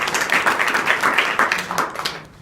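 Students clap together in a classroom at a school adolescent education program, a steady patter of many hands at close to mid range that fades slightly toward the end, with no talking over it.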